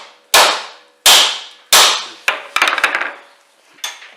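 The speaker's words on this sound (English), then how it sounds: "They're not expensive, those impact drivers." An impact driver works the rear brake bolts on a Land Rover Discovery, giving three hard, evenly spaced hammering bursts, then a quick rattling run of impacts and one last hit, close and loud.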